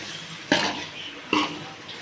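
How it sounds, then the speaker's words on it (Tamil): Chicken pieces stirred in a cooking pot: two short, clattering scrapes about a second apart, close and fairly quiet, with low kitchen noise between them. "நல்லா போட்டு பரட்டிக்கலாம்."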